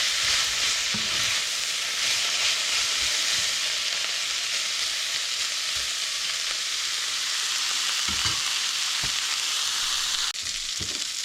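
Shrimp with onions and garlic fry in a pan, giving a steady, close, dense sizzle that holds at an even level throughout with no one talking.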